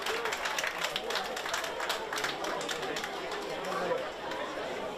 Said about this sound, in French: on l'applaudit encore Marion